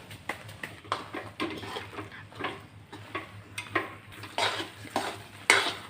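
Flour and ghee are stirred together in a pan for adadiya, a rhythmic series of spoon scrapes and soft knocks against metal over a faint sizzle, close and fairly quiet, with no speech.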